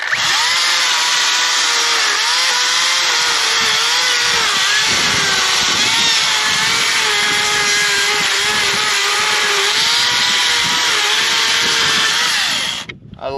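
A power saw cutting juniper wood into firewood chunks, a loud steady high-pitched whine with a wavering tone as the blade bites, running continuously before cutting off abruptly near the end.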